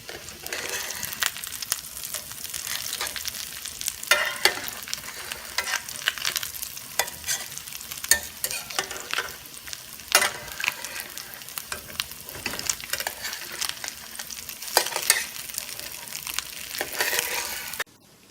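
Cod fish cakes fry in a pan with a steady, close sizzle and crackle, broken by occasional scraping and stirring sounds as they cook, with no voices.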